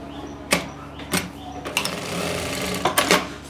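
A sewing machine stitches fabric for a summer top in short rapid bursts of needle clatter, separated by brief pauses, close and fairly loud.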